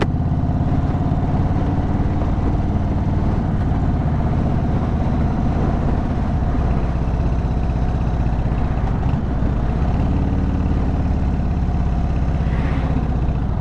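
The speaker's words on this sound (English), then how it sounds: "So I'm revving at them, bro." Motorcycle engine revved in traffic on a mountain road ride, a steady loud droning rumble with constant wind and road noise throughout and no talking.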